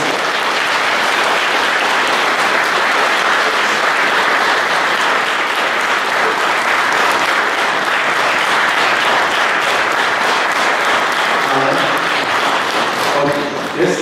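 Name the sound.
audience applause for the orchestra at a carol concert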